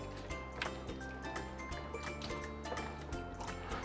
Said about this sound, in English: then we stir it